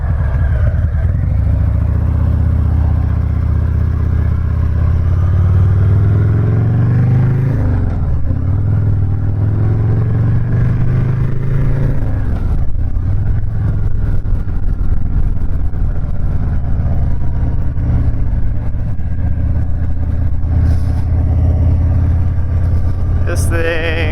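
A custom Stage III Harley-Davidson Sport Glide motorcycle rides along with a steady, loud engine drone that shifts pitch as it revs and settles, with a voice talking over it.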